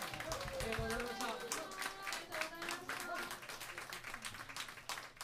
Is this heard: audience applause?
yes